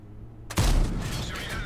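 A single loud tank cannon shot in the tank battle game EBR 105 match, a sudden heavy boom after a brief quiet hum, followed by a sustained rumbling echo that fades slowly.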